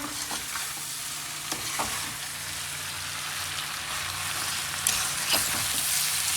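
Carrot pickle (gajar achar) being stirred with deggi chili powder gives a steady oily sizzle with a few soft spoon scrapes through the mixture, close and continuous, with no talking.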